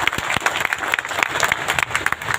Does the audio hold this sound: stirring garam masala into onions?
no